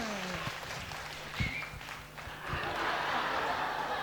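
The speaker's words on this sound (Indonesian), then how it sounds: "Mohon tepuk tangan yang sangat meriah." Audience applause at a Balinese comedy performance, a moderate wash of clapping that swells in the second half, with voices and a few sharp knocks mixed in.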